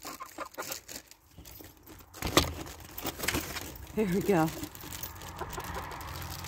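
Chickens out in the snow cluck and squawk intermittently near and far, mixed with rustling and brief human speech.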